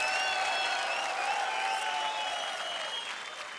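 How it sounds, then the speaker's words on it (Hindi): A studio audience at a Hindi comedy show applauds to welcome a guest, steady loud clapping filling the room and easing off slightly toward the end, with no talking. "2000 तालियों के साथ स्वागत कीजिए"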